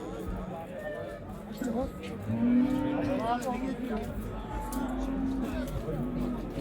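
Cattle low at the Sorgun live animal market, a loud moo in the middle and another later, heard through the busy chatter of the crowd and the people talking nearby.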